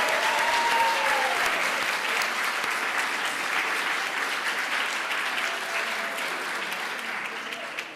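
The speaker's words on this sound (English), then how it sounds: "let's have one more round of applause for all the great work they do in shaping our future" Sustained round of applause from an audience at an awards ceremony honoring rising stars, a dense, steady wash of clapping that fades slightly toward the end.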